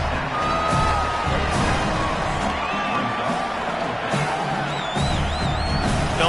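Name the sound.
football stadium crowd making noise during a kick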